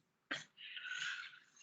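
A single sharp sneeze bursts out somewhere in a lecture room, followed by a faint breathy trailing hiss, heard distant and quiet.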